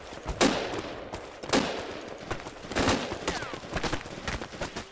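Machine gun fire in the military shooter game Project Reality on the Muttrah map, heard as several sharp bursts at roughly one-second intervals, the last one longer, with steady battlefield noise between them.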